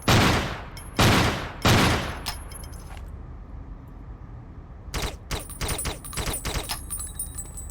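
Rapid gunfire in True Combat: Elite, three loud close bursts at the start, then a lull and a fast string of sharper, quieter shots with metallic ringing after, no talking.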